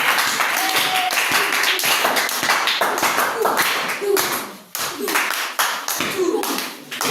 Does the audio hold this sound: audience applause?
yes